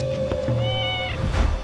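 A pet cat meows indoors: one drawn-out, tonal mew rising and falling over about a second, close and clear over a low steady background hum, with no talking.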